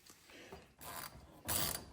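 Screws are backed out of the plastic headlight trim on a 2017 Ford F150, heard as two short bursts of close ratcheting clicks from a hand tool, separated by a brief pause.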